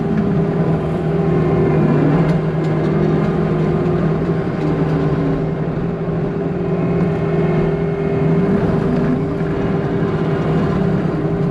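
An MTL XCT brush cutter runs on high flow at about 60% throttle, a steady droning hum with sustained tonal whine, close and constant with no talk.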